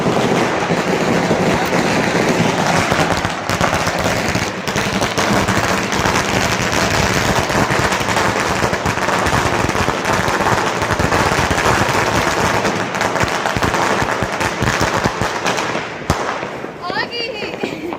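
A long string of firecrackers bursts in a dense, continuous crackle during Diwali celebrations in Amritsar. The loud, unbroken rattle lasts almost the whole stretch, with voices of people talking over it.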